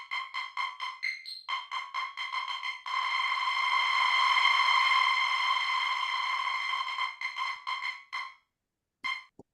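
A Serum synth patch played through an arpeggiator, bright tonal notes in quick repeated pulses, then a sustained held stretch before the pulsing resumes, clean and close with no talking.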